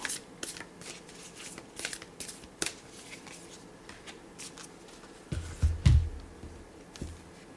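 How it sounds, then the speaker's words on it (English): A deck of tarot cards is shuffled in quick riffling bursts, crisp papery flutters close by, ending with a few louder thumps as the cards are squared. "I'll do one more shuffle."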